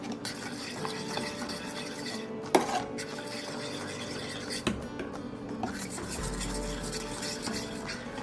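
Cornstarch mixture stirred in a pot with a utensil, a steady scraping and rubbing rhythm with occasional sharp clanks against the pot's side.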